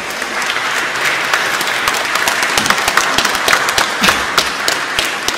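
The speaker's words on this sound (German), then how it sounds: "Einen großen Applaus für die Frösche." Loud, close audience applause for a frog stage backdrop at a church fairy-tale evening, lively clapping from many hands with individual claps standing out, continuing steadily without talk.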